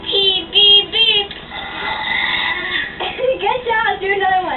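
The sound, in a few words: child burping in a burping contest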